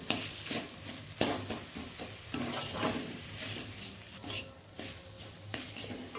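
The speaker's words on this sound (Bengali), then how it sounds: "এবার মাংসটাকেও এর সঙ্গে একটু ভেজে নিচ্ছি" Mashed meat frying in a pan while paratha filling is cooked, a steady close sizzle broken by repeated stirring scrapes and clinks of utensil against the pan.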